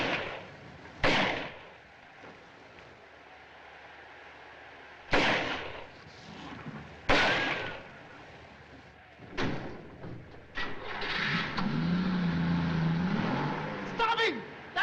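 Sharp gunshots ring out during a car chase in a 1942 film, a handful of loud isolated cracks spaced seconds apart, followed by a running car engine and shouted dialogue.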